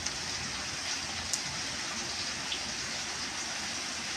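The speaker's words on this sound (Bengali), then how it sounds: "আজকে ঘুম আসছিল না, তাই আমি উঠে বৃষ্টিটা ক্যামেরা বন্দি করলাম তোমাদেরকে দেখাবো বলে।" Early morning rain falls steadily in a dense, even wash, with a few louder drops standing out now and then, all heard at moderate distance with no voices.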